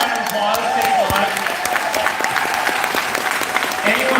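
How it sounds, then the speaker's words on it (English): A live event crowd claps in sustained applause for elected officials in attendance, dense and steady throughout with a few whoops and voices mixed in. "Let's give a round of applause."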